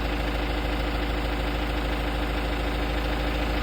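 A Workmaster 105 tractor's engine idles just after starting, a loud, close, steady low rumble with an even knocking pulse and no variation throughout, no voices.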